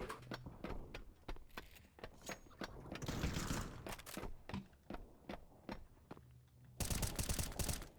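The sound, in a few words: gunfire in the video game Counter Strike 2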